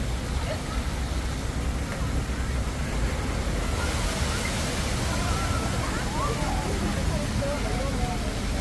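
Steady spray and splashing of water jets at the Yeonji children's splash playground in Jongno-gu, Seoul, on a hot summer day, a continuous broadband rush with faint voices mixed in.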